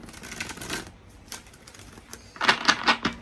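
Tarot cards riffled and shuffled by hand at close range in a few quick bursts, with a short pause between them and a louder final flurry at the end.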